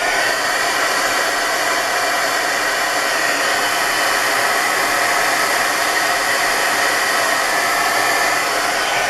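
A hair dryer runs steadily close by, drying distress oxide ink on paper, a constant loud airy whir with a steady hum throughout and no voices.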